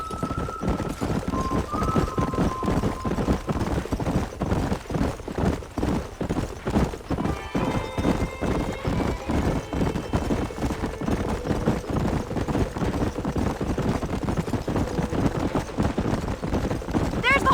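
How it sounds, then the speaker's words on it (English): Wild horses in a video game gallop with steady clip-clop hoofbeats and an occasional whinny, loud and close, with bits of talk layered over the running herd. "There's the horses!"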